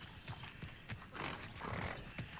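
A horse-like creature in the video game Hogwarts Legacy snorts and whinnies amid hoof-like clopping, moderately close and continuous over a soft game ambience.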